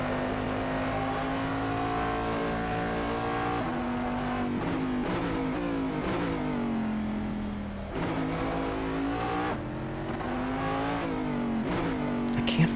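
The Corvette DP's V12 engine howls through repeated upshifts and revs while racing at Silverstone GP in Assetto Corsa, a loud, steady tone that climbs and drops in pitch several times over the run.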